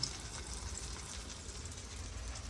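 Sliced eggplant frying in oil, a faint steady sizzle and crackle continuing evenly throughout with no talking.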